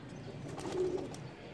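Pigeons coo softly in a bird-catching net setting, one low rounded coo rising briefly in the middle of faint background noise.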